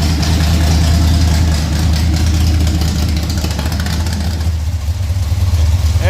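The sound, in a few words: Pontiac 421 Tripower engine idling with a muffler fallen off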